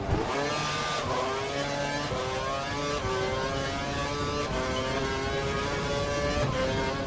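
Simulated Formula One race cars in F1 2012 at the German Grand Prix, several engines droning together with steady high-pitched whines that rise and fall as they shift, loud and continuous with no pauses.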